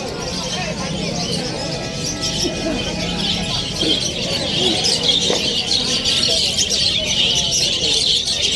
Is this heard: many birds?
yes